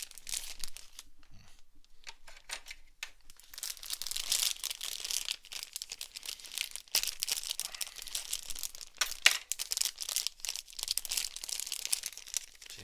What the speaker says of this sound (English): you don't have to make these plastic bags tricky to get into